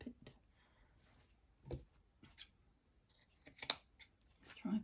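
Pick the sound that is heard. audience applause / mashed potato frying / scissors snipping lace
scissors snipping lace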